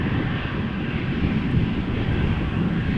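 An Embraer 195 E2 jet preparing a right-hand turn at Amsterdam Schiphol Airport gives a low, steady engine rumble, moderately distant and even, with no speech.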